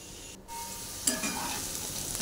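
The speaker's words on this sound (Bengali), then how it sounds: "এই দেখো একটু বারে বারে নেড়ে দিচ্ছি।" Potatoes fry and sizzle in a pan for a paneer, potato and tomato dish while being stirred now and then, a soft, even hiss close by with a slight scrape partway through and no talking.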